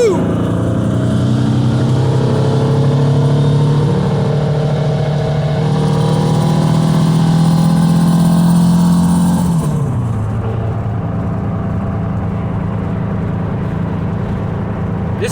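Car fitted with a stage 3 clutch accelerating, a loud engine climbing steadily in pitch through the gear, then dropping sharply at a shift before settling into a lower, quieter drone.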